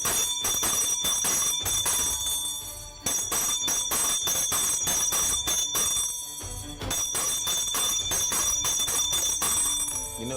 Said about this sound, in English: You know what that bell signifies?